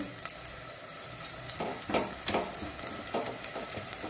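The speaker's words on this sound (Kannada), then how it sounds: "ಇದನ್ನು ಚೆನ್ನಾಗಿ ಸ್ವಲ್ಪ ಇದರಲ್ಲಿ ಒಳ್ಳೆ ಫ್ರೈ ಆಗಬೇಕು" Onion, chopped ginger and finely cut garlic frying in a pan for Mangalorean prawn pannopkari: a close, steady sizzle with repeated stirring scrapes and clatters spaced through the whole stretch.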